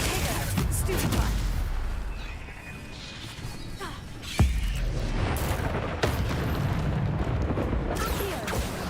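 Stupefy stun spells fired during a boss fight in Hogwarts Legacy, a dense barrage of magical blasts and crashing impacts with a sharp burst near the middle, layered over continuous battle noise and music-like rumble.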